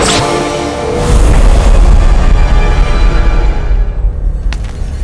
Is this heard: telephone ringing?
no